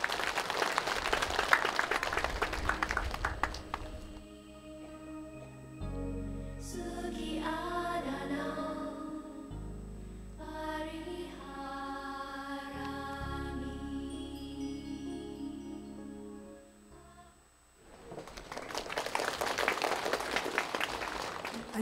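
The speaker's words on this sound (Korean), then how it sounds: "여러분 박수로 맞아주시기 바랍니다." Audience applause at the 65th Haeinsa Tripitaka Day ceremony at Haeinsa temple, a broad wash of clapping at the start, then music in the middle, and another loud burst of applause near the end.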